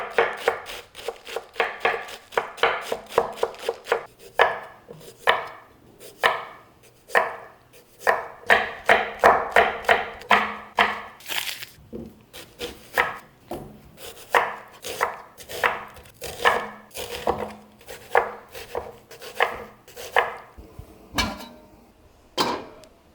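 Vegetables for a pozole salad are chopped on a board: long runs of rapid, close knife taps, with a few short pauses between bursts and some louder, heavier strikes, and no voices.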